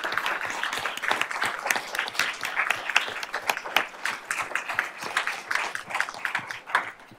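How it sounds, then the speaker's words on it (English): An audience at a school board of trustees meeting applauds a student's parents, a steady stream of many hands clapping at moderate distance, continuous for several seconds without speech. "let's give them a round of applause too"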